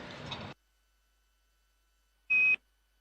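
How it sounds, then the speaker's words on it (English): A caution alarm sounds aboard Boeing's Starliner spacecraft during a crewed flight test: one short, loud electronic beep with a steady tone, after a burst of noise and a long silence. "The Starliner saw the RHC caution go into and out of alarm."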